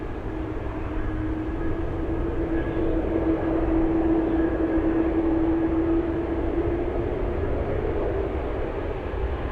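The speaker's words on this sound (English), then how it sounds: "And it's just taxiing, pretty much at idle, only spooling up the engines just a bit." A tri-jet airliner taxiing with its engines near idle and spooling up slightly, a steady loud jet roar with a sustained whine, continuous and close throughout.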